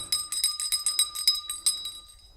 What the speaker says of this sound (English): By the power of the bell